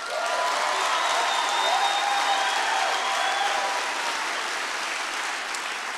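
Clapping from a church audience forms a continuous crowd wash, steady and fairly loud, with faint cheering or vocal tones threaded through it.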